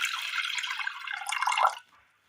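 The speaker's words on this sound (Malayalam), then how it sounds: "ഒരു ചട്ടി നന്നായി ഒന്ന് കഴുകിയതിന് ശേഷം അതിലേക്ക് ഒരൽപ്പം വെള്ളം ഒഴിച്ചു കൊടുക്കാം" Water splashes and gurgles steadily as it is poured into a freshly washed cooking pot, growing a little fuller before stopping abruptly and leaving a brief faint trickle; no one speaks.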